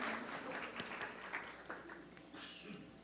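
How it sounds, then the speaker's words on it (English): Faint applause from an audience at a youth environmental leaders summit in Bogotá, a soft, diffuse patter of clapping heard at a distance. "to greet you with a warm round of applause"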